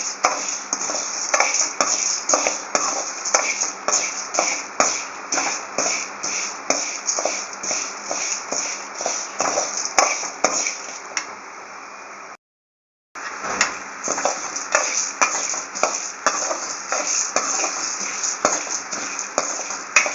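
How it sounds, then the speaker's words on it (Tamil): Dal and garlic stirred and dry-roasted in a pan, a rapid run of scraping spatula strokes and gritty rustling, close and loud, with a brief dropout midway before the stirring resumes. "இந்த பச்சை வாடையெல்லாம் போகணும் சிவக்க வறுத்துட்டாங்க"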